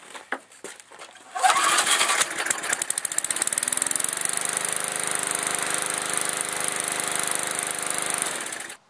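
A curbside-salvaged lawn mower's small engine cranks a few times, then catches and runs steadily at a loud, close, even drone until it cuts off at the end.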